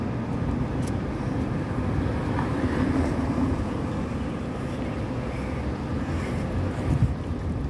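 Wind buffeting the microphone during a daily walk outdoors from home to work, a steady loud rumbling roar that stays constant throughout, with no voices.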